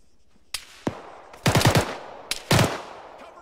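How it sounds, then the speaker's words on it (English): Enemy gunfire rings out: two sharp single shots, then a rapid burst of several rounds, another lone shot and a final burst, loud and close with brief silences between. "Enemy fire."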